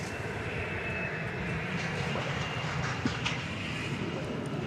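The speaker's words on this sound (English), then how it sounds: "There's our first featured Frontier flight of the afternoon" A Frontier Airlines jet at Dallas Fort Worth airport gives a continuous broad engine roar, steady and fairly distant, with no speech.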